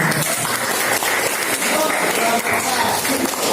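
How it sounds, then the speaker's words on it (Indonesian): A classroom group applauds after a presentation, a dense burst of clapping that runs for a few seconds with some voices mixed in. "Oke, tepuk tangan untuk"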